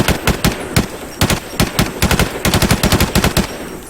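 Shooting video game gunfire rattles in rapid, uneven automatic bursts of sharp cracks, dense and continuous over a steady background hiss.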